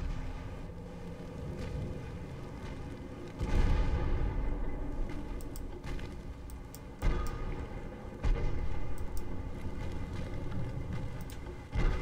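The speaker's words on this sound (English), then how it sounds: "I can fire my guns on Cressy for now" Naval guns firing at the ship Cressy in Ultimate Admiral: Dreadnoughts, distant booming salvos arriving in a few heavy bursts over a steady low rumble of sea and engines.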